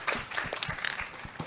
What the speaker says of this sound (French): Des applaudissements s'il vous plaît pour lui.